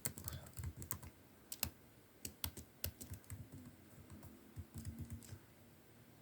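Data being typed into a web form for tracking shipments of teaching materials on a computer keyboard: a steady run of sharp, close key clicks with short pauses, with no talking.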